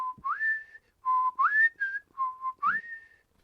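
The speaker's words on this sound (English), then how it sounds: "If you're watching Wheel of Time on Amazon Prime, listen to Podon Fane's whistle" A whistled theme tune for the villain Padan Fain from the Wheel of Time series: clear, close melodic phrases, each starting on a steady low note and then sliding up to a held higher note, repeated three times with short pauses.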